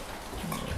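Pigs kept on a farm as future sows grunting close by, a low rumbling, continuous snuffling that grows louder toward the end, with no talk over it.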